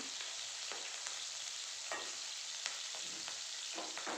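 Green chillies and onion splutter and sizzle in hot oil for egg fried rice, a close, continuous frying hiss broken by sharp crackling pops and the scrape of stirring.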